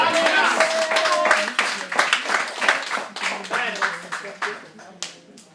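Church congregation clapping in steady rhythm while acclaiming the Lord during a Sunday worship service, claps mixed with voices singing and calling out, close and lively.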